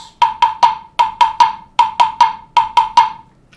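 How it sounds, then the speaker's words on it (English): Drumsticks tap out a rhythm of crisp single strokes with no flams, grouped in threes and fours with short gaps, bright and close with nothing else heard. "So what you're hearing is just the taps."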